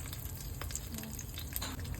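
Steady, gentle sizzling of food frying in a pan, continuous and close, with faint stirring noises and no talk.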